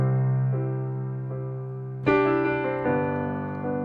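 A piano plays a country lick: sustained chords ring out, with a brighter struck chord near the middle, then a few softer notes that fade on.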